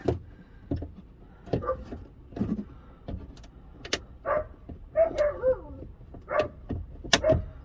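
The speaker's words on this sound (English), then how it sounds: "There's my dog barking outside because when she sees me in the truck, she wants to go for a truck ride." A dog barks outside near a parked Chevrolet Avalanche truck, with short sharp barks coming in uneven bursts, some yipping, heard from inside the cab during a dash crack repair.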